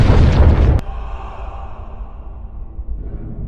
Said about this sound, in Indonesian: ledakan besar tersebut menewaskan banyak prajurit Jepang